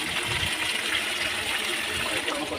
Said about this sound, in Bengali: দিয়ে দিলাম ফুটিয়ে রাখা জলটা